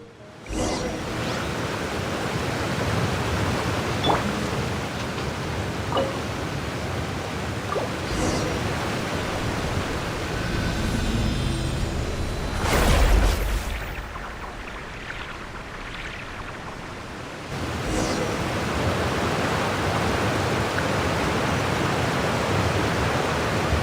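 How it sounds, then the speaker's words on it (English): A waterfall in Genshin Impact produces a continuous broad rushing roar throughout, with a brief louder surge partway through and faint game chimes over it. "with the force of this waterfall, there's no..."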